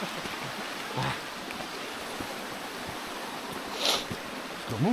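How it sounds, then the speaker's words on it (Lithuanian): A mountain spring in the Balkans, a faint steady trickle of flowing water close by, with a few small clinks and rustles near the end. "Radom šaltinį."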